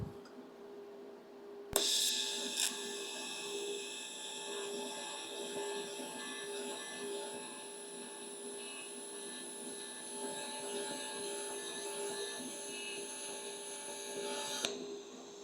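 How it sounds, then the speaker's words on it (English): Pulsed TIG welding on thin stainless steel tubing, a steady close buzzing arc with a rhythmic pulsing hum that starts with a click, runs evenly for about thirteen seconds and stops abruptly. "you're doing TIG welding, and this is 50 thousandths"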